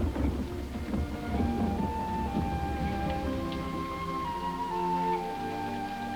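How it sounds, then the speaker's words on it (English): Heavy rain pouring during a wet-season storm in German East Africa, a dense continuous hiss and patter with a low rumbling bed, steady and fairly loud throughout. "It has been raining solidly for a week."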